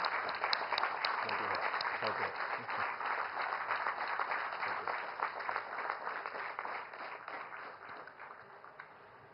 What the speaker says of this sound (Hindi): तालियों की करतल ध्वनि के साथ हम आपका स्वागत करते हैं